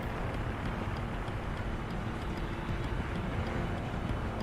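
A military helicopter approaching in Call of Duty Modern Warfare 2, a constant dense roar of engine and rotor with faint rhythmic blade chop, steady and fairly loud throughout.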